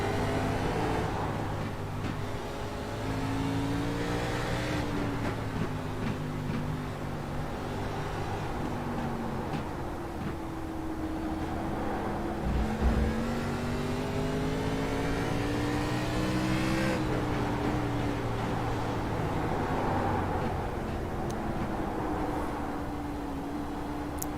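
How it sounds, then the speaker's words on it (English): An ARCA race car on a fast lap at the Charlotte Roval, its engine droning steadily with rising and falling pitch as it climbs through gears and brakes, heard at a moderate distance without speech. "This will be Casey's first fast lap."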